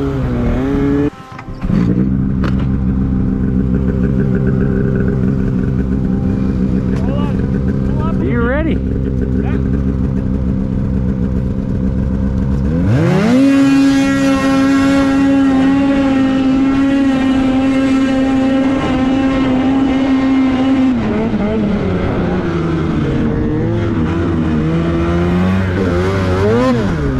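Polaris Boost and Khaos 850 snowmobiles drag racing on frozen Mirror Lake, engines idling loudly, then a sharp rev and high sustained wail as the sleds launch and pull away.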